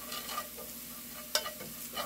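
Garlic fries quietly in a pan for a Korean stir-fried dried anchovy side dish, giving a soft, continuous sizzle broken by a few light stirring scrapes and clicks.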